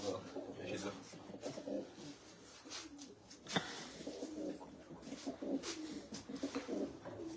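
Pigeons coo repeatedly close by in a loft in the evening, layered with soft rustling and murmuring voices talking in the background.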